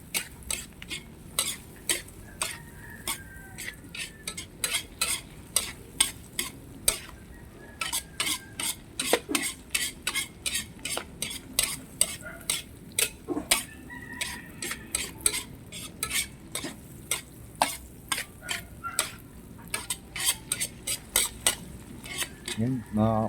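Tomatoes and onions sauté in a pan under a quiet sizzle, broken by frequent sharp scrapes and clinks of a utensil stirring against the metal in an irregular rhythm.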